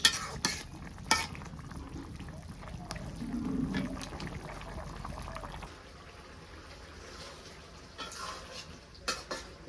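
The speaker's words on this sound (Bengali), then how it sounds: "মাছ দিয়ে দিচ্ছি, মিশিয়ে নিই।" Fish being stirred into a simmering curry makes a quiet, close scraping and gentle bubbling, with scattered light clicks of a spoon against the pot at the start and end.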